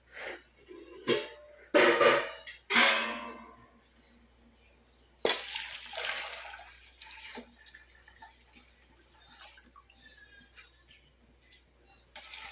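Water is poured into a pot of vegetable khichdi with soaked rice, giving several splashing, gurgling pours in bursts, close and fairly loud, followed by quieter trickling and clinking.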